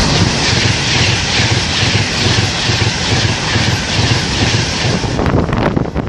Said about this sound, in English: Pendolino bound for London Euston and double Voyager set coming by Birmingham to Glasgow and Edinburgh.